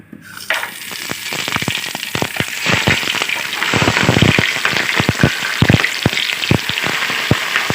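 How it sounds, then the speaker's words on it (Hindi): Whole garam masala and onions frying in about 300 grams of hot Soya Supreme oil for a beef yakhni pulao. A loud, close crackle of spattering pops grows into a steady, busy sizzle. "इसमें हम ये साबुत गरम मसाले का भगार लगाएंगे और ये प्याज डालेंगे इसमें"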